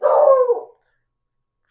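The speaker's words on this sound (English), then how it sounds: "Pardon me while I stop my dog from barking." A single short, close dog bark rings out clearly and stops abruptly, followed by silence.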